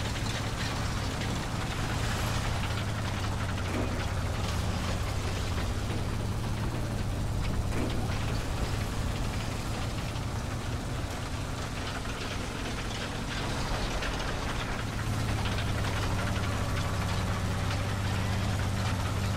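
Engine of the Pz.Bfw. VI P heavy tank in War Thunder: a continuous low rumbling drone with mechanical rattling and squeaky clanking running steadily throughout, loud and close.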